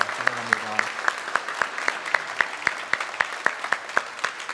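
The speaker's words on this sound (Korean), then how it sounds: "우리 박수로 환영하도록 하겠습니다" A church congregation claps to welcome newcomers, a steady rhythm of sharp, fairly close claps throughout, with a brief hum of voices at the start.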